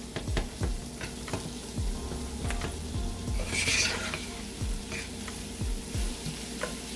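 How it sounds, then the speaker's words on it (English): Mushrooms sauteing with garlic and onion in a pan, a steady close sizzle with intermittent scraping and stirring knocks of a utensil against the pan, no talk. "go ahead and add your mushrooms. And let that saute nicely."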